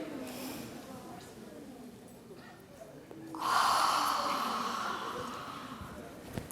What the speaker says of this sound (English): Nice deep breath in again for me